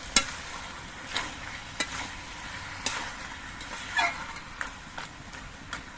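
Chhenchra curry with added sugar is stirred in a pan, a steady low sizzle broken by spatula scrapes and taps roughly every second.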